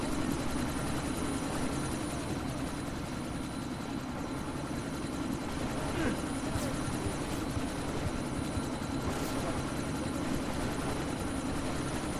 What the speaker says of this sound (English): Miller, chopper's been grounded.